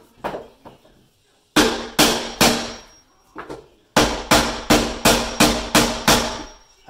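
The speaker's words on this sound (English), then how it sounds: "now I'm going to take a hammer and a board, and I start hitting this." A hammer strikes a wooden board during a closet build, landing a few scattered blows and then a steady run of loud, sharp, evenly spaced hits, close and alone.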